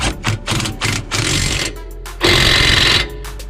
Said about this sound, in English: ready to see if it's ready to go back in with the impact